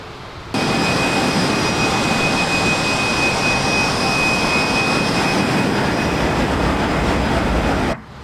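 A Fokker F28 jet in Microsoft Flight Simulator gives a loud, steady cabin roar of broadband engine noise with a faint high whine. It holds constant for several seconds and cuts in and out abruptly.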